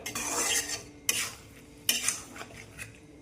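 A spoon scrapes and stirs curry in a pan, three quick close scraping strokes in a row with a faint sizzle underneath and no voices.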